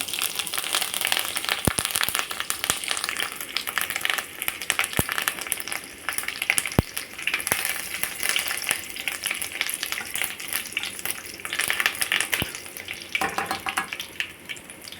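Mustard seeds and curry leaves sizzling in hot oil for a kadhi tempering, a steady crackling fry with sharp popping spikes scattered throughout and no talking.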